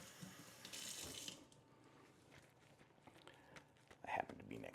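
A bathroom sink tap runs briefly, a soft hiss of water that cuts off after about a second, followed by quiet handling noises and faint movement nearby.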